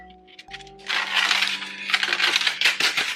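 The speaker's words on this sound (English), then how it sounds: "I am going to go and try to cut the aluminum foil" Small knife slicing and tearing away aluminum foil from a homemade birthday cake, giving a close, continuous crinkling and crackling rustle that runs for about two seconds after a brief quiet start.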